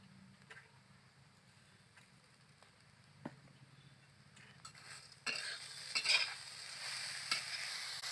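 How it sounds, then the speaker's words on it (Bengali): Grated carrots cooking in ghee with sugar for carrot halwa, stirred in a pan: a quiet sizzle with occasional scrapes, growing louder and busier in the last few seconds. "চিনিটা না গলা অবধি ভালো করে নাড়তে থাকবো"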